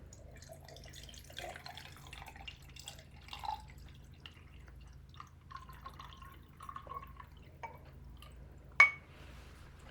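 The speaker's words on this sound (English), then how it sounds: "we're going to pour it into our jar" Vinegar trickles and drips into a glass jar holding an egg, soft, faint splashes scattered over several seconds with one sharper clink of glass near the end.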